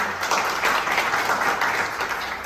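An audience at a community association convention claps together in a dense, steady wash of applause that holds at an even level through the whole stretch, with no clear voices.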